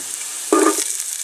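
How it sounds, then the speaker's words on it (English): Garlic and onion hit hot oil in a soup pot with a sudden loud sizzle about halfway through, quickly settling into a steady frying hiss. "So in goes the garlic and the onion."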